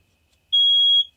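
A single sharp, high electronic beep of about half a second comes from an RV fire alarm. The rest is near silence.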